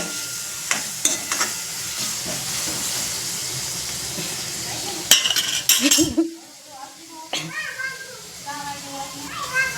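Tomatoes go into a hot pan and sizzle as they fry, a steady hiss with utensil clinks and stirring scrapes, while people talk nearby and children's voices are heard.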